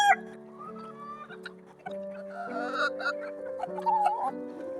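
Free-roaming desi chickens on a small poultry farm cluck and chatter continuously close by, a busy overlapping flock with rising calls and a few sharper squawks.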